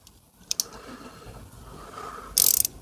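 Socket wrench turning a bolt on a 1981 Honda Goldwing during a tire swap, a couple of sharp metallic clicks early, then a quick loud burst of rapid ratcheting near the end over a quiet background.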